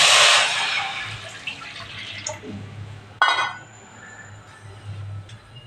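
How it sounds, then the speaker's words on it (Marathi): Water pours into a cooking pot to be set on to boil, starting with a loud close gush that fades, then a second brief splash midway and quieter trickling afterward, with no talk. "आता आधी आपण पहिल्यांदा पाणी उकळत ठेवूया"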